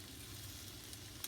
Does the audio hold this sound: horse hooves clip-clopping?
no